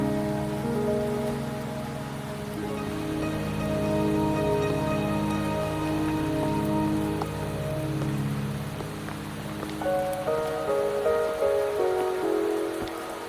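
Steady rain patters across the scene in the video game Wuthering Waves, a continuous hiss with a tonal musical score playing throughout.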